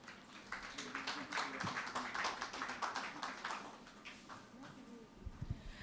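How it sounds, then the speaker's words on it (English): Applause from a conference audience, a steady wash of many hands clapping that thins slightly toward the end. "Please, a round of applause for her."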